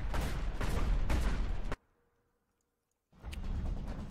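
Shotgun fire in the video game Secret World Legends: dense, rapid blasts packed together for almost two seconds, a sudden silence, then another loud burst of shots near the end.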